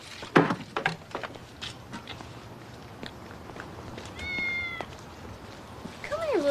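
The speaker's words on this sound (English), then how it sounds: "Come here, little kitty." A cat meows twice, a short call and then a longer drawn-out one near the end, over faint clatter and footsteps, fairly close but not loud.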